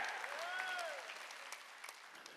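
A church congregation at a Sunday worship service applauds in a soft, continuous patter. A few sharper claps poke through, and a brief sliding tone briefly rises over the clapping near the start.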